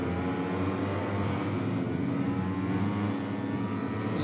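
Motorcycle engines rev loudly at a race start in MotoGP 21 career mode, a dense steady roar of several bikes accelerating together, close and continuous with no voices.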